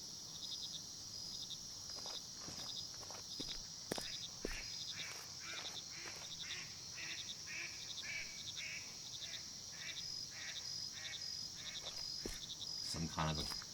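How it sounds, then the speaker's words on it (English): Crickets chirp in a steady, pulsing rhythm through the night ambience of a temple area in the video game Okaeri, with occasional faint clicks and rustles underneath. "We got crickets."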